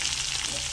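Onion frying in oil in a kadai, a short burst of steady, close sizzling hiss with no voices over it.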